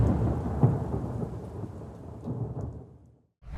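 Heavy rain pours during a monsoon thunderstorm while a deep roll of thunder rumbles loudly and then fades, ending in a short near-silence before the rain swells again.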